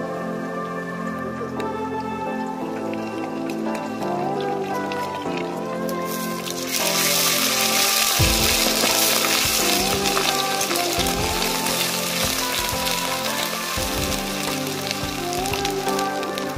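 Ginger-garlic paste hits onions frying in oil in a kadai for a country chicken curry, bringing a sudden loud, hissing sizzle that continues steadily, with a few clanks of a spoon against the pan, following quieter background sounds.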